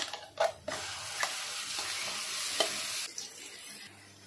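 Ground masala paste sizzles loudly as it hits golden-brown onions in a pan for paneer butter masala, with steady broadband frying hiss and a few stirring scrapes and clicks, easing off slightly near the end.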